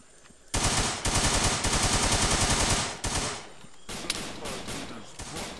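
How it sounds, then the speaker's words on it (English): Bursts of automatic rifle fire rattle loud and close in an ARMA 3 jungle firefight, a sustained stream of rapid shots followed by a short pause and then more scattered, slightly quieter volleys. "More gunfire front."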